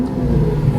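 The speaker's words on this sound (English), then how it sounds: "To start these Aventadors, which is quite nice" A 2012 Lamborghini Aventador engine revving after starting, a deep loud mechanical roar with a thick low rumble, close by and alone for under a second.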